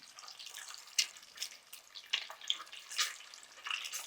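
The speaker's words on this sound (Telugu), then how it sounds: "ముందు వాటిని మనం కొంచెం వేయించాలి" Eggs fry in hot oil for an egg pulusu curry, giving soft, scattered crackles and sharp little pops against a quiet background.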